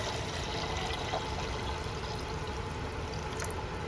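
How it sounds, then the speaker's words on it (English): Water pours steadily into a 1,000 milliliter glass beaker holding crushed aspirin, a continuous, even rushing splash heard close up for the whole stretch without pause or talk. "now I'm going to add about 800 milliliters of water"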